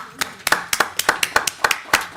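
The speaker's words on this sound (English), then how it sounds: "about one more round of applause for Mike?" A handful of people clap in a loose, uneven rhythm of sharp separate hand claps at a city council special meeting in Hackensack, honoring the new police chief; fairly close, with no crowd roar.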